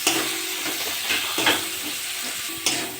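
Spices and tomato fry in oil in a pan, with a steady broadband sizzle and a few louder stir scrapes spaced through the three seconds.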